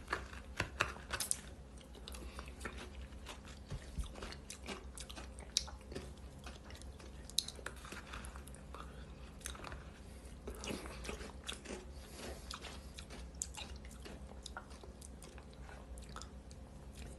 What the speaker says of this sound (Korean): 지금 깍두기 씹는 거